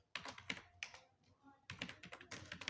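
Typing C code on a computer keyboard, with close, brisk keystrokes in uneven bursts and a short pause in the middle, fairly quiet overall.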